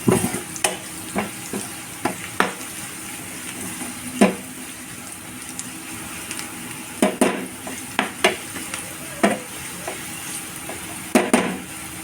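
Cumin and turmeric tempering frying in a pan of oil for dal, a steady sizzle under repeated sharp scrapes and knocks of a spoon stirring, with no talking.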